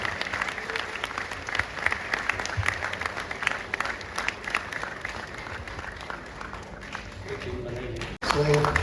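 Sustained applause fills a hall at a Gujarati film society award function as a guest walks onto the stage, a dense steady clapping from a large audience that cuts off abruptly near the end.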